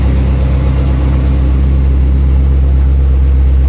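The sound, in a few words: BMW M5 race car engine revving loudly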